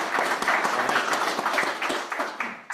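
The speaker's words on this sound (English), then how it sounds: "Round of applause." Audience applause after a startup pitch at a business pitch event, steady clapping from a moderate crowd that holds for a few seconds and then tapers off.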